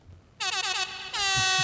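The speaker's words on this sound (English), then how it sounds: "Maybe Airhorn?" An air horn sound effect plays as two loud, blaring blasts, the first wavering and the second held steady, close and alone without talk.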